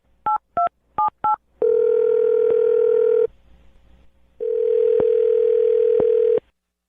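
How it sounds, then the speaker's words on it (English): A telephone dials a number with four quick DTMF key tones, then two long ringback tones separated by a pause of near silence, loud and close on a radio call line. "I'm going to dial his phone number right now"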